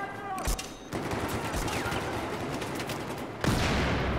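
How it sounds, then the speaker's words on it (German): Gunfire in Battlefield 4, bursts of shots and a loud blast amid chaotic battle noise, with a sharp impact near the end. "Schüsse."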